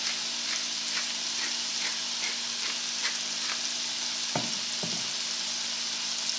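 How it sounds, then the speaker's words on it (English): Scallops sizzle loudly in a pan, a continuous crackling hiss with scattered pops and two sharp utensil taps near the end. "You can hear them sizzling."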